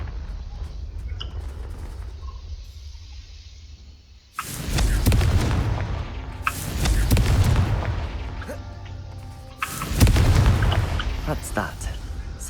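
Three loud, booming blasts of the Confringo fire spell in Hogwarts Legacy, each a sudden explosive burst with a rumbling tail, spaced a few seconds apart after a quieter stretch of game ambience.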